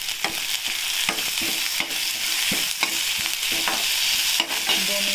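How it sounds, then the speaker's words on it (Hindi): Green chillies fry in a pan with a soft steady sizzle, while a spoon stirs and scrapes in repeated quick strokes, close and fairly quiet with no talk. "हरी मिर्ची भी डाल देंगे"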